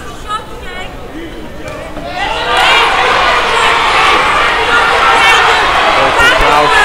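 A crowd at a boxing show at Liverpool's Olympia cheers and shouts, swelling into a loud, sustained roar after a quieter start, with voices talking over it.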